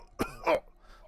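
A tabletop game master imitates coughing with his voice, giving two short, harsh coughs in quick succession, close and clear.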